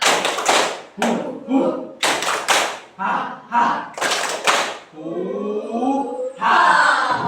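Children clap a rhythmic spirit clap together in loud bursts of group claps and thuds with short gaps, followed by laughter and voices at the end.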